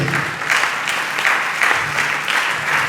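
A church congregation applauding and cheering in praise of the Lord during a sermon, with steady, loud clapping from the crowd carrying on without a break.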